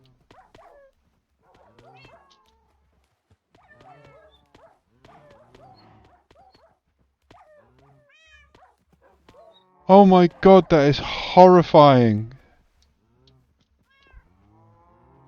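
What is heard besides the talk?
cats meowing and dogs barking in a video game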